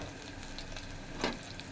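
Green chillies and curry leaves frying in oil for a South Indian rasam, a steady soft sizzle throughout with one brief louder crackling burst near the end.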